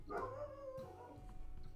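A single dog gives a drawn-out, whining howl-like bark nearby, with a fainter yip trailing after it.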